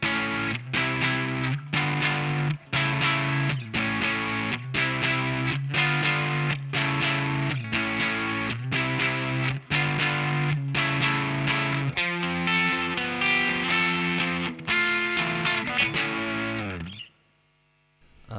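A distorted electric guitar plays a song's verse riff alone, a chugging run of repeated chord stabs with a low sustained note, later shifting to ringing chords before cutting off.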